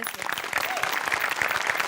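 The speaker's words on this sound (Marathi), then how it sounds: "आपल्या सगळ्या टीमसाठी आपणच एकदा टाळ्या वाजूया" A studio audience at a Marathi comedy show claps in a dense, lively burst of applause that carries on steadily throughout, with no pause in the clapping.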